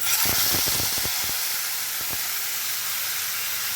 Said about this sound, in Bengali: ফোড়ন থেকে একটা সুন্দর গন্ধ বেরোলে আমি এর মধ্যে এখন বেটে রাখা মশলাগুলোকে ছেড়ে দিচ্ছি